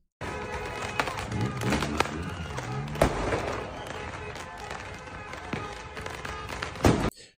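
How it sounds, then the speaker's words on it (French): Fireworks and firecrackers exploding in a city street during celebrations of a Moroccan victory: a dense, continuous crackling roar with scattered sharp bangs and thuds, mid-distance, with faint crowd voices underneath. "En même temps, c'est des feux d'artifice."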